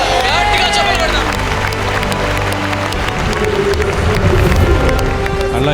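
A large audience at a church gathering in Hyderabad claps loudly, a dense continuous burst of applause mixed with crowd noise and voices.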